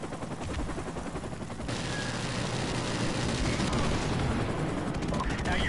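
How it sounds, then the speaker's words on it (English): Dense, continuous video-game gunfire and rumbling explosions during an airstrike in Modern Warfare Remastered, growing heavier after a couple of seconds and filling the mix as a constant loud barrage. "Friendly airstrike on the way."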